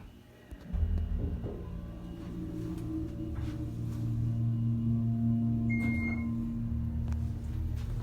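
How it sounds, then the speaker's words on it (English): A low, steady hydraulic elevator motor hum, from a 1984 Otis Series 1 LRV, starts abruptly and drones on with mechanical whirring, plus a brief high tone partway through. "Listen to this motor."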